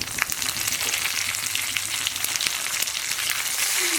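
Crushed, halved curry leaves fry in hot oil for a dry mango pickle, crackling and popping up close in a dense, steady sizzle with scattered sharp spits.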